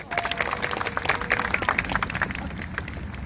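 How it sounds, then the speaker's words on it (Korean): Clapping and cheering from a crowd at a Korean labor union rally, a busy patter of hands with scattered shouts, loudest early and easing slightly toward the end. "큰 연대의 함성과 박수로 모시겠습니다"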